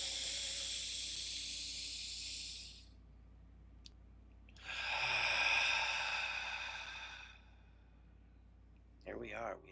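Slow, deep breaths during a guided belly breathing exercise: two long airy inhale-exhale swells several seconds apart, close and soft, with a brief sharper breath at the end.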